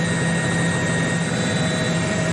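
A helicopter carrying people under armed DEA escort drones loudly and continuously, a dense steady roar of engine and rotor with no pauses.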